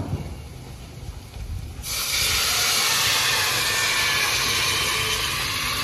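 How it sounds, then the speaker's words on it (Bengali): Water poured into a hot pan of Kashmiri mushroom masala sets off a sudden loud, steady hissing sizzle of steam that holds for several seconds after a quieter lead-in. "এবার দিয়ে দেবো পরিমাণ মতো জল।"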